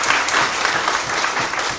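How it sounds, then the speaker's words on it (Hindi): Steady audience applause fills a church during a Christmas sermon, a dense, continuous wash of many hands clapping at even loudness throughout with no speech over it. "ये ताली बजाना चाहिए यीशु के लिए।"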